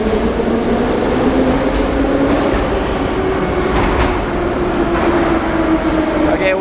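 A Moscow underground metro train rumbles loudly and steadily, with rail noise and a faint high whine running through the whole stretch and no talk above it.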